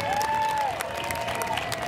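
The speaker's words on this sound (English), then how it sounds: "Let's give a big round of applause to Jerry Rayburn." A crowd at an outdoor Stand for Asians rally in Irvine applauds, soft scattered clapping mixed with raised cheering voices, heard from a moderate distance.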